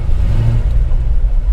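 A 1963.5 Ford Falcon Futura engine runs steadily at a low, even idle, close and continuous with a slight rumble and no talk over it.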